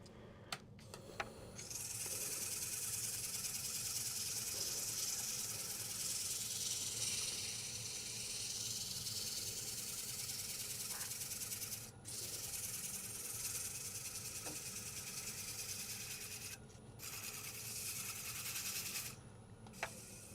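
Close, continuous rough sanding on a cypress wood bowl, a steady rasping hiss with a couple of short breaks.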